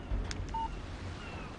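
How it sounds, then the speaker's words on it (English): A short electronic alert tone from a phone in the video game Alan Wake, a single brief steady beep heard faintly over quiet ambient game background. "Text message from Barry."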